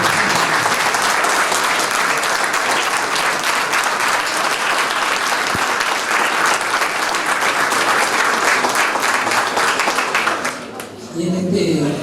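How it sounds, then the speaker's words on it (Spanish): A dense, loud crowd applauds steadily for a family at a memorial gathering in Argentina, the clapping sustained without a break until it thins out near the end. "Así que les pido un aplauso para Viva y toda su familia."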